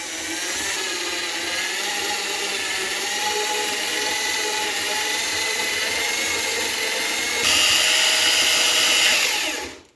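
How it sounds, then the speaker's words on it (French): An electric drill with a mixing paddle churns multi-purpose filler, a steady loud whir with a slight shift in pitch near the end before it cuts off. "le mélange est très agréable, il n'y a aucune résistance au niveau de la perceuse"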